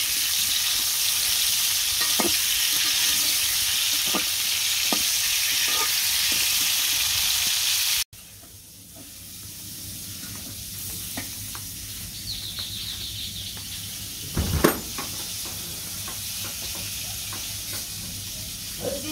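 Greens frying and being stirred in a pan, with a steady sizzle in the first half, then a quieter crackle with occasional scraping clinks and one louder clatter near the end.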